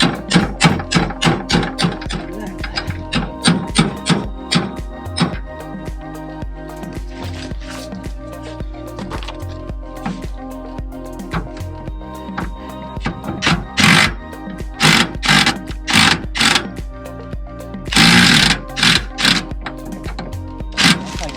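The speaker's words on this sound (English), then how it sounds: "hammer it on so that it won't damage it" Metal hammer strikes on a bolt in RV brake parts ring out close and loud, a quick run of rapid taps at first, then slower, irregular blows separated by short pauses.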